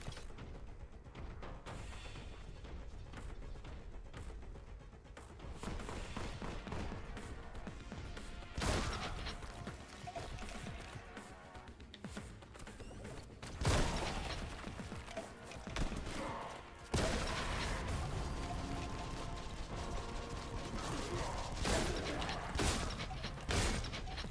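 Heavy weapon fire in the video game Boltgun, mechanical clanks and crashing shots in repeated bursts over a dense, loud game soundscape, with little speech.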